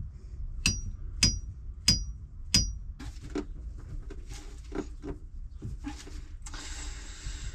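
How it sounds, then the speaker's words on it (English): Tapping a threaded metal fitting into place on a sailboat: four sharp, evenly spaced taps ring out close by, followed by softer scraping and handling noises of the fitting being rotated. "keep rotating and tapping until you think you've got it far enough in to get the thread on"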